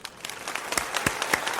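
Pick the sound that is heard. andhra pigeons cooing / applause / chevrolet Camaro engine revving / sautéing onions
applause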